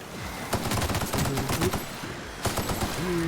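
Rapid automatic gunfire in the video game Get to Zee Ship, fired in repeated bursts at a large manta-like enemy, loud and close with short gaps between volleys.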